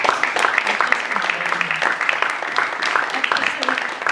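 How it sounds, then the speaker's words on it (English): Applause from an audience at a theatre talkback for the show "NEXT...but first, coffee": steady, dense clapping throughout, with faint voices mixed in underneath. "Can we give them another round of applause?"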